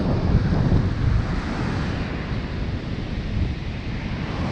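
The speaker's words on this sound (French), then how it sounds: "Les vagues sont vraiment fortes." Strong storm waves crash and roar on a beach while gusts of wind buffet the microphone, a loud, continuous broadband rumble with no pauses.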